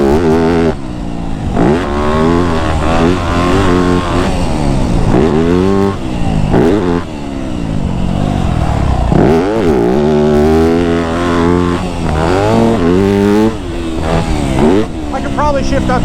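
A Yamaha YZ250F dirt bike engine revs hard and continuously while riding over jumps, its pitch rising and falling with throttle and gear changes, loud and close with wind noise throughout.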